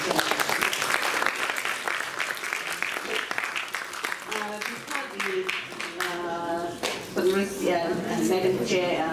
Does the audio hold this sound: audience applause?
yes